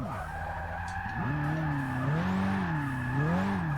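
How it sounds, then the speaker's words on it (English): A supercar drifting in Forza 6 makes a long, loud tire squeal that wavers in pitch as it slides, over a steady engine drone. "it is a really fun car to take out and actually try to slide"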